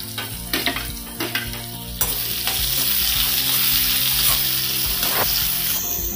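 Finely chopped onion hits hot oil and bursts into a loud, close, continuous sizzle, after a few earlier scrapes and clinks of a utensil in the pan.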